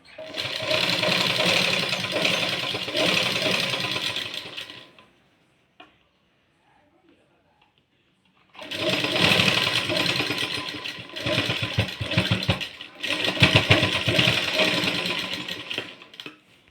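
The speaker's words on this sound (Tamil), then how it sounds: "ரெண்டுத்தையும் சேமாக வச்சு இப்படி நம்ம தையல் போட போகிறோம்" A sewing machine stitches two blouse pieces together in steady, loud bursts of rapid mechanical chatter, with a pause of near silence between the runs.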